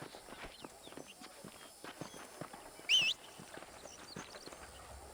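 A horse in Red Dead Redemption clip-clops at a walk, soft hoof falls repeating at a steady pace, fairly quiet, with a brief whinny-like squeal midway.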